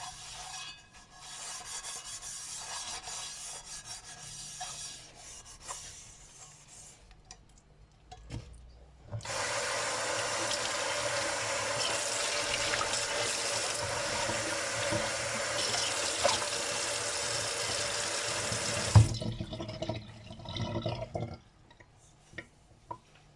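A single frying pan is rinsed and scrubbed under running tap water, a steady broadband rush lasting about ten seconds with softer rubbing and dripping before and after, no talk.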